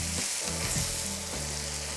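Minced meat, onions and noodles frying and being mixed in a single pan, a loud close sizzle with spatula scrapes, plus a low humming tone from the stove, with no voice.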